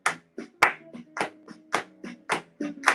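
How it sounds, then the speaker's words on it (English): Crisp hand claps ring out one at a time in a steady, even rhythm, about ten sharp claps over a few seconds, close and clear with short gaps between them. "They made up a dance called Clap and Clap and Clap and Clap again."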